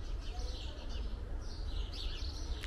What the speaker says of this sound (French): Vous avez vu comme ça piaille le matin ici?